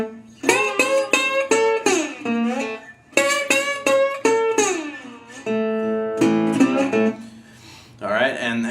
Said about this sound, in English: he plays this very fast slide combination